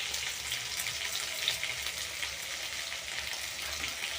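Banana flower curry with chilli powder, coriander, meat masala and ginger-cumin paste sizzling and frying in a pan, a steady crackling hiss with faint stirring throughout.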